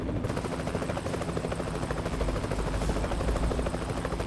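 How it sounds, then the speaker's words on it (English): A helicopter in the trucking game American Truck Simulator, its rotor chop pulsing rapidly and loudly, filling the scene as a constant thudding drone with no talking over it. "I hear a helicopter though."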